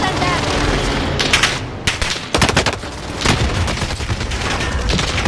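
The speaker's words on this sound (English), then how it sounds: "Bullets everywhere." Dense volleys of video game gunfire during a shootout around a tower, with rapid overlapping bursts and sharp single cracks that keep up almost without a break over a steady busy background.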